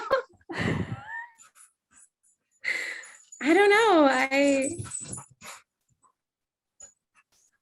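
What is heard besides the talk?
dog barking and whining in the background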